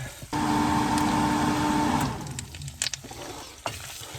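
Chorizo frying in a pan and rendering its fat, a close sizzling hiss with a tonal hum for the first two seconds, then softer crackle with brief clicks and scrapes.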